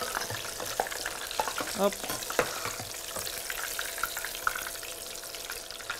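Accras fritters deep-frying in ordinary frying oil give off a steady, fairly quiet sizzle with soft bubbling crackles and a few brief clinks, close by, with barely any voice.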